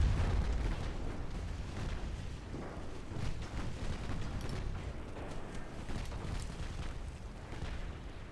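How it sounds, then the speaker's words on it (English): Torpedo launched during a Japanese dreadnought naval battle game, heard as a dense, continuous rumble of explosions and booming gunfire with sporadic bursts throughout, loud and without talk. "Oh, we got a torpedo off."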